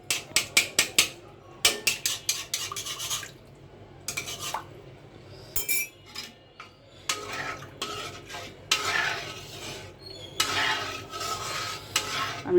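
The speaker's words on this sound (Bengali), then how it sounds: "এটা একটু নাড়া দিয়ে মিলিয়ে দিচ্ছি, তাহলে কালারটা সুন্দর আসবে।" A spoon stirs Nawabi semai mixture in a pan, scraping in quick clusters of sharp scratches and clinks, separated by short quiet gaps.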